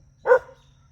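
A single short dog bark, close and fairly loud, rising sharply and fading within a fraction of a second over a quiet background.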